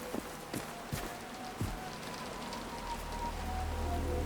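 Rain falling in the video game Generation Zero, a steady hiss of drops on surfaces with a few sharper taps and low rumbling, continuous and moderately quiet, no voices.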